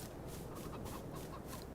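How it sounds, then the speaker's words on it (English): Chickens cluck steadily in Farming Simulator 22, a soft, continuous farmyard murmur of hens with no single call standing out, heard alone at moderate loudness. "quick peekaboo at our chickens back here."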